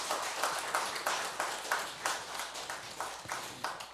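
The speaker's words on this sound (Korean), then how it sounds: "다시 한번 감사의 박수 부탁드리겠습니다." Applause at a Buddhist foundation chairman's inauguration ceremony: a sparse, fairly quiet group claps in loose rhythmic bursts that pulse unevenly throughout.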